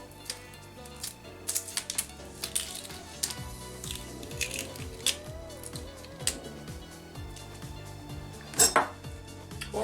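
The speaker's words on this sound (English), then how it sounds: "You can cut them up however you like, either in small slices or, you know, the big ones." A knife slices red beets into thin pieces for cold beet soup, giving irregular crisp taps and clicks on a cutting board, with faint talk in the background.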